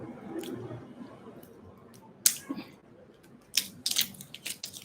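Someone bites into and chews fresh watermelon outdoors, giving a few close, wet crunches and squishy bites in short bursts against quiet background.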